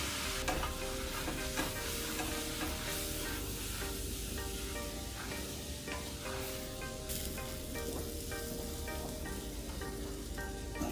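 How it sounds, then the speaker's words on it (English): Pigeon peas and rice for arroz con gandules sizzle steadily in a hot pot, with a spoon stirring and scraping through them in a continuous close frying hiss, no voices. "Gandules. Stir it around."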